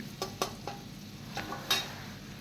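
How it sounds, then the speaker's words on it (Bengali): A batch of okra pakoras deep frying in hot oil, giving a steady soft sizzle with several sharp clinks of a utensil stirring the pan. "এবার এই সেকেন্ড লটটা ভেজে নিচ্ছি"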